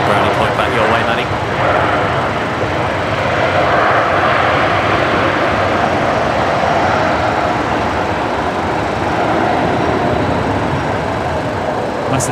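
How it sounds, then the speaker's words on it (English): Air New Zealand flight 147 from Auckland, landing on runway 19 left at Brisbane Airport, gives a steady, loud jet roar that stays broad and constant throughout, with people talking over it. "So this is New Zealand 147 just arrived from Auckland here on runway 19 left"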